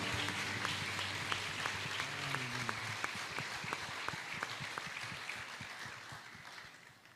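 A church congregation at a Foursquare Gospel family service applauds in a steady wash of clapping, with faint voices and a low sustained tone underneath that fades slightly toward the end.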